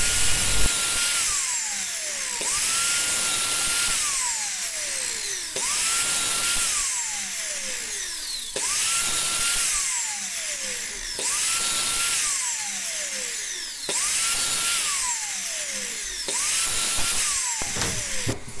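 A high-pitched power tool cuts brick mold pieces in repeated passes, each whine rising and dropping as the blade bites in, with about seven cuts in a steady rhythm and no talking.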